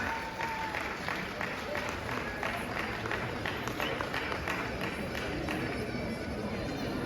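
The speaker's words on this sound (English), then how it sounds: "Huge round of applause." An audience claps at a Sardar Vallabhbhai Patel 150th birth anniversary celebration in Ravindra Bharathi hall, a dense continuous wash of applause lasting throughout, with voices speaking over it.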